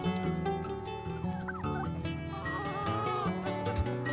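Turkeys gobble and chickens call on a farm in a dense, unbroken chorus of overlapping cries that stays steady and fairly loud throughout, with no talking.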